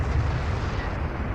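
Dense low rumbling barrage of artillery fire in the real-time strategy game Homeworld: Deserts of Kharak, booming continuously and fairly loud with no clear gaps, no voices over it.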